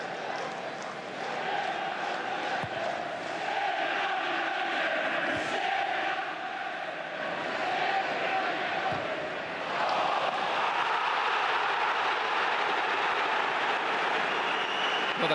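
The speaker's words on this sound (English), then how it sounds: "the crowd here absolutely frantic" A football stadium crowd at a 1999–2000 Premier League match between Manchester United and Middlesbrough roars and chants in a continuous, frantic wall of noise, with a commentator's voice over it.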